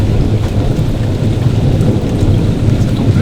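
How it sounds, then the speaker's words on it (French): Heavy thunderstorm downpour outside an abandoned clinic, with dense rain hammering surfaces and low rolling thunder rumbling continuously throughout, loud and close with no voices. "L'orage."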